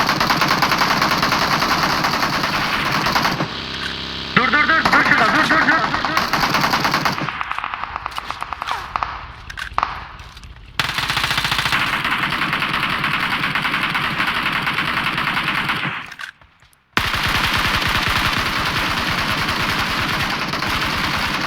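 Rapid automatic gunfire in PUBG Mobile, loud sustained bursts of shots with short pauses and engine noise underneath, cutting out briefly near the end before resuming.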